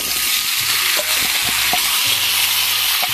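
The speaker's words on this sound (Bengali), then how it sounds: "পাঁচফোড়নগুলো ভাজা ছিল, অল্প একটু মশলা হতেই হয়ে যাবে। এবার দিয়ে দেবো কুমড়োটা।" Pumpkin and potatoes fry with panch phoron in a loud, continuous hissing sizzle, with soft scrapes and taps of a stirring spoon now and then, close up and without speech.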